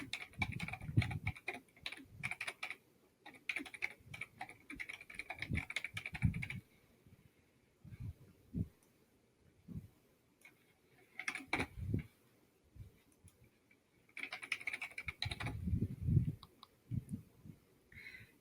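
Computer keyboard keys clatter steadily while a Poshmark listing title is typed, in uneven runs of quick, close clicks broken by short pauses, quiet and near with no voices.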